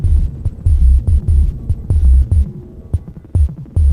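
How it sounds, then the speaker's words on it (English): A Dreadbox analog synth plays random percussive hits: loud, deep thumping pulses in an irregular rhythm, each with a sharp click at the start, close and with nothing else behind them. "Next, I'm gonna make some random percussive sounds using this Dreadbox synth."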